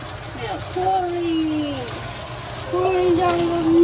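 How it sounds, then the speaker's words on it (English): Water gushes and splashes as noodles and water are poured into a colander at a kitchen sink, a steady close rush with a brief lull partway through. "pouring down the noodles."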